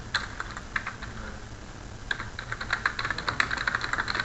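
Computer keyboard keys pressed for a Ctrl+A shortcut in Excel, scattered close clicks that thicken into a quicker tapping run toward the end, with no talking.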